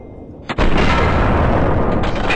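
A gunshot or blast rings out in the video game Fallout 3, a sharp burst followed by a loud, sustained rumbling roar that continues to the end, with no talking.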